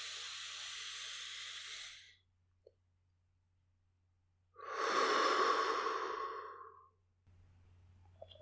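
Slow, deep meditative breathing, heard as a long airy exhale, a short pause, then a fuller hissing breath that swells and fades, close and quiet with no talking.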